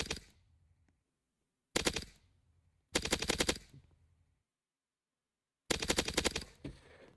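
Gunfire from a shooter video game under development: four loud bursts of rapid automatic fire separated by short silences, close and alone without talk.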